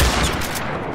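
Gunfire from The Last of Us Factions multiplayer game comes in a quick loud burst of shots at the start, then trails off into a fading echo within a second.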